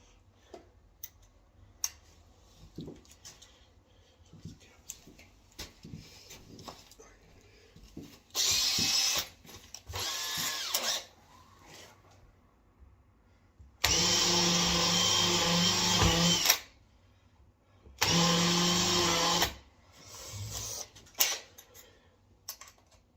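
A power drill countersinks screw holes while a door is hung, sounding in several short whirring bursts with quieter pauses and handling noise between them.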